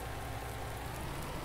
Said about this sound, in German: wir haben schon wieder Regen